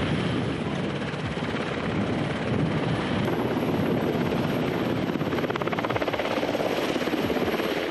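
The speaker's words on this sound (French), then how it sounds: "Cet hélicoptère apporte la livraison du jour," A military helicopter bringing in a delivery of tyres, its rotor chop and turbine roar loud and steady throughout at close range, with no talk.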